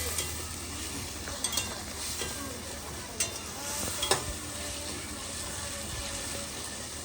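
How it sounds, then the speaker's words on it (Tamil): Onions sautéing with tomato in a pan make a soft, steady sizzle, broken by a few light scraping clicks of stirring. "வெங்காயம் கொஞ்சம் நல்லா வதங்கி வரட்டும்"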